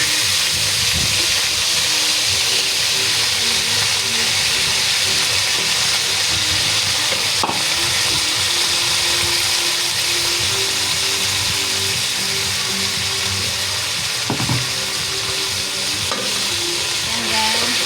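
Chicken and onions fry in a pan for chicken pochero, giving a loud, unbroken sizzle close up, with occasional clinks and scrapes of stirring over the constant hiss.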